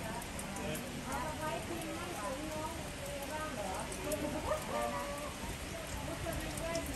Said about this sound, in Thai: เป็นฝนครั้งที่2ของวันนี้นะครับท่าทีจะไม่หยุดนะครับ